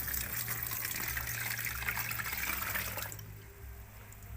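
Coconut milk being strained and poured, a steady close splashing trickle of liquid that runs continuously and eases off near the end.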